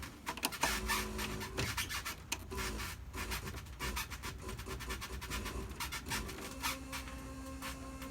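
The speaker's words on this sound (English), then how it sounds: "I'm guessing that's just a stepper motor starting instead of ramping up." A stepper motor in a slot machine starts abruptly without ramping up, giving a buzzy, scratchy whir with short steady tonal stretches and gritty bursts. It runs close and moderately quiet, with no talk over it.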